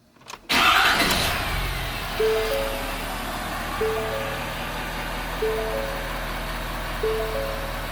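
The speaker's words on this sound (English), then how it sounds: "So let's fire this thing up." A Ford 6.7 Powerstroke diesel pickup engine cranks and catches with a loud initial roar, then settles into a steady, even idle with a faint recurring chime in the background.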